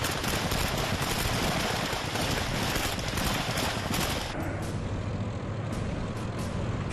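Soldiers' gunfire in news footage of the Russian assault on Ukraine: dense, continuous bursts of automatic weapons fire crackle loudly throughout, like a sustained fusillade with no pauses.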